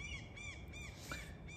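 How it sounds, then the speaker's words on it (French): Gulls calling outdoors, a series of repeated harsh cries in quick succession, fairly distant and faint over a low background hum, with no talking. "Les mouettes protestent."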